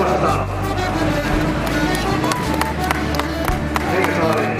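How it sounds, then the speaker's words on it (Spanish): Spectators clap and cheer for veteran runners at an outdoor race, a dense, loud patter of applause from a close crowd, with voices mixed in and an announcer speaking over it. "Fuerte aplauso para estos remedios"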